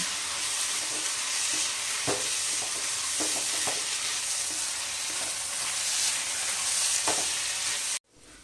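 A large tomato and four green chillies sauté with softened onions in a pan for ghee rice, crackling in a loud, continuous sizzle with scattered spatula scrapes before cutting off abruptly.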